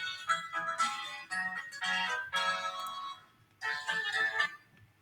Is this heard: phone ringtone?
yes